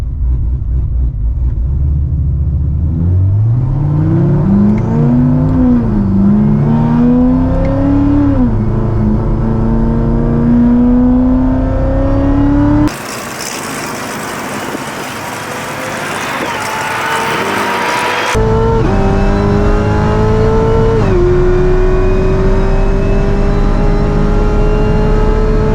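A 1,000 hp Corvette ZR1 accelerating hard in a race, with a loud engine roar climbing through several gear changes and a brief shift in sound partway through.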